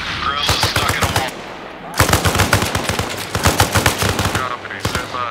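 Machine gun fire in a military video game, rapid dense bursts of shots, loud and close, one long burst, a short gap, then further sustained bursts.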